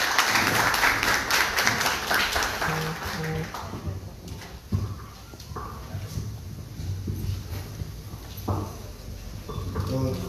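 Applause from the audience at the inauguration of a centre for migrants and their families, greeting the mayor of San Miguel. A dense burst of clapping opens loudly, then thins and fades beneath a speaking voice.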